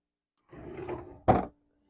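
A bathroom vanity drawer is pulled open, giving a soft sliding rub followed by a single sharp knock as it stops, close by in a quiet room.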